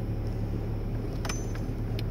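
A pickup truck drives along, a steady low engine and road rumble throughout, with a couple of faint clunks and rattles from the cab as it goes over a bump.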